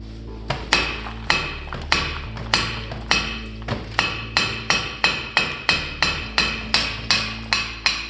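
Repeated hammer blows knock a brake rotor off the front hub of a 2006 Pontiac Vibe, metallic clanks landing in an uneven rhythm that speeds into a rapid, steady series of close, loud strikes, with no talk.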